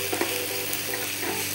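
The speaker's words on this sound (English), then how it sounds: "we're gonna go ahead and deglaze it with a little bit of white wine" Shrimp sizzling hard in a pan as white wine hits it for deglazing, a loud dense hiss with a low steady hum beneath, close and continuous with no talking.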